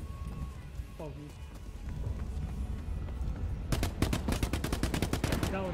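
Gunfire in the video game The Cycle: Frontier rings out as a rapid burst of sharp shots near the end, preceded by a few scattered reports, while players talk over the game.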